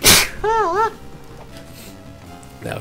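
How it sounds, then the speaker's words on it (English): One sharp, close sneeze bursts out at the start, followed by a short voiced sound and then quiet background. "I have a sneeze brewing."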